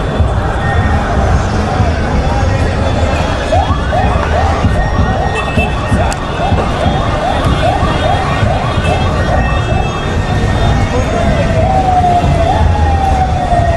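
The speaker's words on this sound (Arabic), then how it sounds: "اسعاف الطب واسعاف تطلع" An ambulance siren at a street protest during the Iraqi uprising wails in repeated rising-and-falling sweeps over a dense crowd roar, with people talking nearby.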